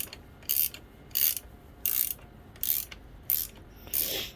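A bolt is wound into the clutch of a Kawasaki KE100 motorcycle with a ratchet, six evenly spaced bursts of rapid clicking about every two-thirds of a second, close and clear with no talking.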